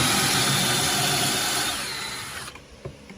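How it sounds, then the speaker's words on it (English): A power drill bores pocket holes through wood from an antique bed, guided by a pocket-hole jig: a loud, steady whirring grind for about two and a half seconds, then the motor cuts out, leaving a few faint knocks. "he's just putting pocket holes in this."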